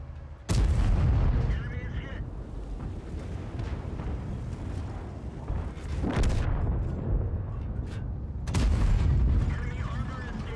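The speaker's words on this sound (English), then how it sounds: "He's firing HE." Tank cannon fire in a tank battle video game, heavy booming shots with long rumbling tails, one near the start and more around six and nine seconds, loud over continuous battle noise.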